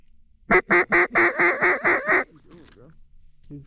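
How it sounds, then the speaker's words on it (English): Mallard drake calling over a duck hunting spread, a quick series of seven or eight loud, clipped honking notes in steady rhythm, followed by softer trailing chatter. "Drake whistle."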